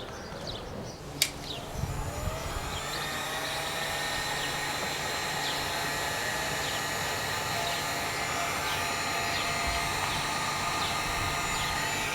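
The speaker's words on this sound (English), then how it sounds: "we're going to go ahead and heat this up with a heat gun so it'll be a little easier to turn over" A heat gun blows steadily while warming the engine of a HoBao Hyper VT nitro RC car, a constant airy whir with a faint high whine after a brief click at the start.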